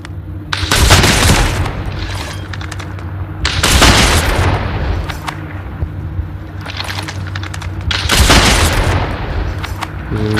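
Automatic gunfire from a battle royale video game crackles in three loud bursts of rapid shots, with brief quieter gaps between the volleys.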